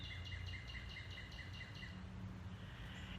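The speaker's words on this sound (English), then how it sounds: "the birds are out." Birds sing outdoors in a faint, quiet scene, with a string of rapid repeated chirps during the first two seconds over a low background rumble.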